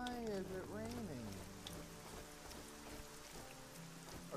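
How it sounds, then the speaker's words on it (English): Rain in the video game Arcnia patters softly beneath background music with gliding, sliding tones, and a voice is heard briefly near the start. "look, it's raining again"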